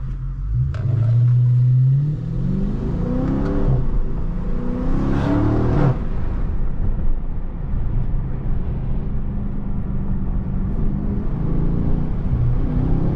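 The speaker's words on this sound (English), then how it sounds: "My car is still stuttering" A Dodge Charger Scat Pack widebody rumbles while driving, its engine giving an early rising rev that drops back into an uneven, stuttering drone with a faint whir, close and steady.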